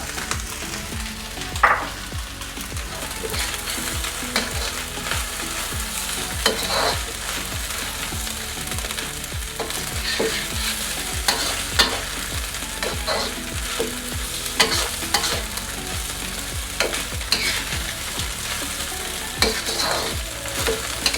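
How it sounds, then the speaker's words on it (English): Vegetables, egg whites and shrimp for golden egg shrimp fried rice sizzle loudly in a hot pan under constant rhythmic scraping and tossing strokes, close and busy, with no talk. "I'm gonna toss in my veggies. Toss that around."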